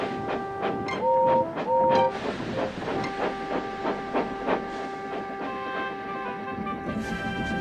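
A steam engine pulling coaches rumbles and clatters along with rhythmic wheel knocks, a long steady hiss and sustained tonal whistle notes, loud and close with no talk.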